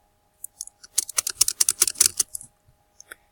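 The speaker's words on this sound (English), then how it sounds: "if you guys can hear me spamming my keyboard" Computer keyboard being mashed during Roblox play: a rapid burst of close, sharp key clicks lasting about a second and a half, with a few isolated taps before and after, no talk.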